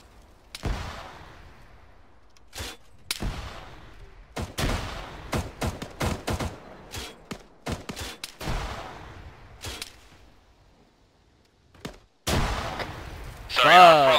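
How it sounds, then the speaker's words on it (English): Explosive fire and gunfire in the Arma 3 video game: a volley of sharp, loud blasts and bursts, some spaced and some clustered, with rumbling decays and brief quiet gaps, ending in a dense roaring stretch. "we're taking HE fire over here."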